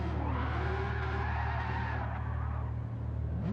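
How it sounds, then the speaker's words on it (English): A tire-squealing burnout by a car in a racing video game, a loud, continuous screech of spinning rubber over a deep, droning engine that holds steady for several seconds. "look at that burnout from Pickles"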